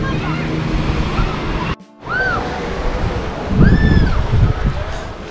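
Waves wash steadily onto the beach beside a seaside restaurant at Tanjung Bira, a constant roar of surf with wind noise on the microphone, a short dropout, and a louder surge late on.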